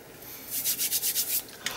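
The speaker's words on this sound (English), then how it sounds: "It does rub off, creates little booger type things that you can just rub away." Squished glue being rubbed off a collage art journal page, a soft, quiet scratchy rubbing in about six quick strokes, heard alone up close.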